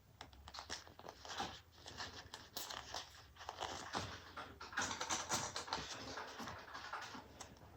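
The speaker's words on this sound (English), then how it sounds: "If you hear a lot of click clacking, that's my daughter over there typing." Keyboard typing in a room, a steady stream of quick, fairly faint click-clacking keystrokes throughout.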